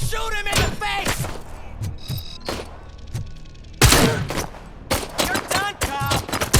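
Bursts of gunfire from the video game RoboCop: Rogue City, loud rapid volleys with heavy thumps, one especially strong blast midway, mixed with shouting voices and game effects.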